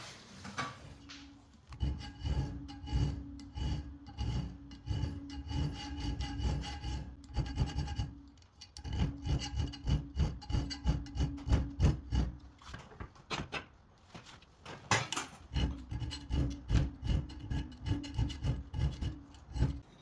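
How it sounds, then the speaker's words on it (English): A file is worked back and forth across steel on a Damascus Bowie knife blank to square its shoulders against a file guide. The rasping strokes are close, loud and rhythmic, coming in steady runs with a few brief pauses. "I got those shoulders filed away with the file guide, so they're nice and square."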